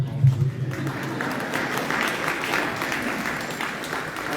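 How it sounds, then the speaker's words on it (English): Dense, steady applause from an audience fills a roundhouse at a Pawnee Nation spooky storytelling gathering, rising after a brief low hum and holding at a fairly even level for several seconds. "You can clap if you want, you don't have to."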